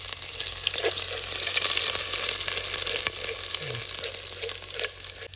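Onions spit and sizzle in hot oil in a pan, a steady crackling fry with occasional scraping stirs and small clinks, heard up close and fairly quiet with no talking.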